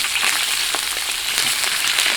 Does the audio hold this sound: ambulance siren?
no